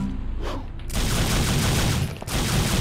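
Rapid gunfire rattles in the video game Devil May Cry, starting with a few shots and then swelling into a loud, dense burst of continuous shooting that breaks off briefly before resuming.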